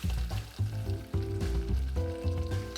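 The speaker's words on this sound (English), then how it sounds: "Gonna give it a quick stir just to integrate it." Chocolate caramel bubbles and sizzles in a pot on the stove after vanilla goes in, a steady frying hiss that runs close and fairly loud throughout.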